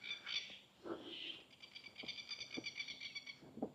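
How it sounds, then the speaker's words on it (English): Birds call outdoors near Warrina Lakes in Innisfail, Australia, giving faint, repeated chirps and trilling notes in short bursts over quiet background. "Birds are quite loud."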